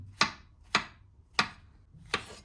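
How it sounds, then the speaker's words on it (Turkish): Four crisp, evenly spaced knife chops on a cutting board as mushrooms and spinach are coarsely cut, each a close, sharp thunk followed by a short decay. "Biraz iri iri doğruyorum zaten küçücük kalıyorlar."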